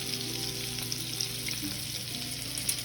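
NY strip steak frying in a pan with a couple of garlic cloves alongside, a constant dense sizzle and spatter heard up close and even throughout, with no talking.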